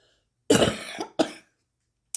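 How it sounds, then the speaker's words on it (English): Two harsh, close allergy coughs in quick succession, the first longer and raspy, the second short, followed by silence. "you'll have to excuse my coughing"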